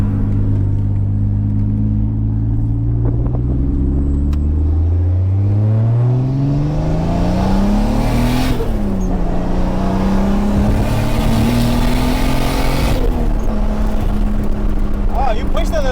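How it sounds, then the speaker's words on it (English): A truck passes close on the road, its rising engine drone and rushing tire noise swelling past a moving 1979 Toyota Cressida, whose own engine hums steadily underneath throughout. "Yeah, that was a truck."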